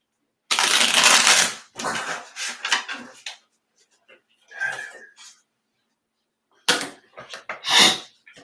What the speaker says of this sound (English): And we want one more shuffle for the Sages.